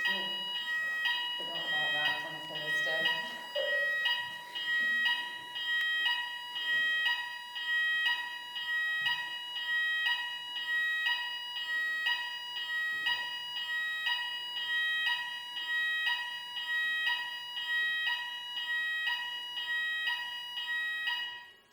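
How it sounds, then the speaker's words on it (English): A building fire alarm sounds continuously through a lengthy test, a loud steady pulsing electronic tone repeating about every second, with brief indistinct voices near the start. "Very lengthy alarm test."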